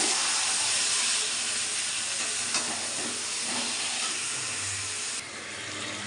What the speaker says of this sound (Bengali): এবার ম্যারিনেট করে রাখা মাংসটা দিয়ে দেবো এর মধ্যে